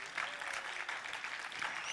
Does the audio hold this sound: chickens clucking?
no